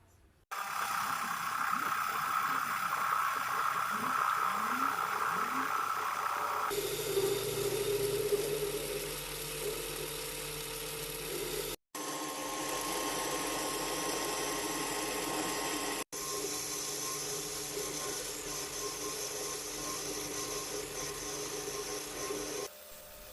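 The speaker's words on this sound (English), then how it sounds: "Here I'm cutting some clearance between the inner race and the outer race of the first bearing." Lathe turning a compact MT2 live centre while clearance is cut between the inner and outer bearing races: a steady machine drone with shifting scraping tones, broken by a few abrupt cuts in the recording, with no speech.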